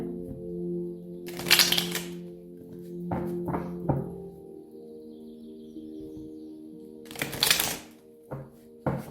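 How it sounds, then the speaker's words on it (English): Tarot cards being shuffled in two brisk riffling bursts a few seconds apart, with soft taps and thumps between them over a steady low musical hum. "so shuffling the cards"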